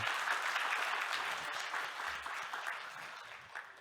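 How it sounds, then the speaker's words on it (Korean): A church congregation at a Sunday worship service breaks into applause, a steady, fairly faint wash of clapping that carries on without pause. "시원하게 박수치고 시작하죠"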